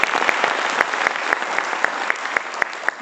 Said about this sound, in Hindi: इनके लिए ताली जोरदार वाली बजा दीजिए